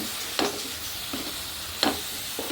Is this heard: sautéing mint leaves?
yes